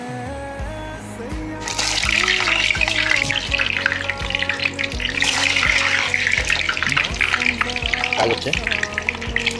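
Frozen chicken seekh kebabs frying in hot oil, a loud, steady sizzle that swells after the first couple of seconds and holds, with music playing underneath and a brief spoken phrase.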